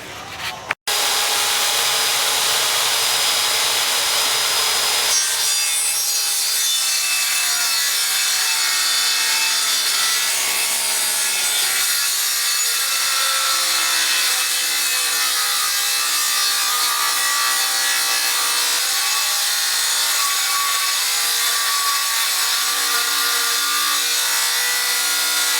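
A circular saw mounted under a homemade table cuts through wood, a loud, steady whining rip lasting over twenty seconds after a brief start, alone with no talk.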